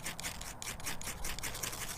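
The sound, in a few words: ferro rod striking sparks onto fatwood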